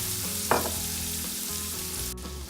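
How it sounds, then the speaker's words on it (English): Onions caramelize in a pan with a splash of balsamic vinegar, a steady close sizzle with a brief pop of spatter early on, no voices. "our onions are caramelized, maybe even a touch overdone"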